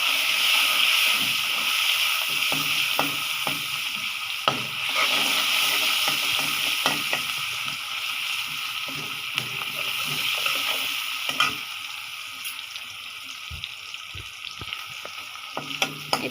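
Onions frying in a pan as the base for a fish and eggplant curry make a steady hissing sizzle, with scattered clicks and spatters and occasional stirring knocks throughout.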